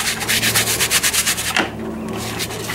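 A brush scrubs a steering wheel cover in quick repeated rubbing strokes, close and crisp, then pauses and resumes more softly.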